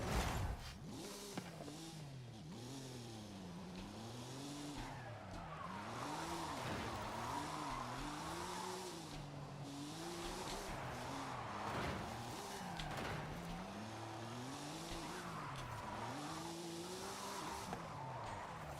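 A Hoonigan truck roars through a racing video game, its engine note rising and falling in repeated revving sweeps while tires squeal and skid throughout, loud and steady with no talking.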